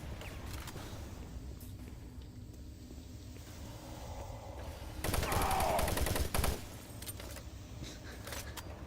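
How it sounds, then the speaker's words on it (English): Burst of gunfire aimed at the player in DOOM 3, a loud dense volley of shots around the middle of an otherwise quiet stretch of low ambient game noise and faint clicks. "Who's shooting me?"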